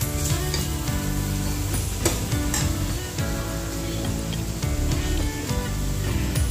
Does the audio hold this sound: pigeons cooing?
no